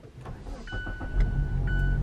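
A 2018 Mazda CX-9 Grand Touring AWD is push-button started from inside the cabin: a few soft clicks and chime tones, then the engine catches and settles into a steady low idle.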